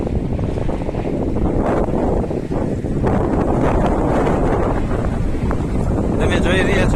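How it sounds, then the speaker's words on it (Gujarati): Cold wind sweeps across the Malnatha hilltop near Bhavnagar, Gujarat, gusting as a loud, continuous roar against the microphone with rising and falling buffeting throughout. "તમે જોઈ રહ્યા છો કે પવન કેટલો સરસ ઉડે છે અને એકદમ ઠંડો ઉડે છે."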